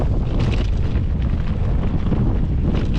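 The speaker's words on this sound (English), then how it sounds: "right where the wind's blowing." Strong wind buffets the microphone while cycling a rough stretch in Iceland, a loud, continuous roaring rush with no voices.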